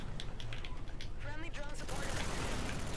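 Rapid gunfire aimed at the sky in Call of Duty: Infinite Warfare, a dense crackling burst of shots over mechanical clatter, steady and close, with a voice speaking faintly underneath.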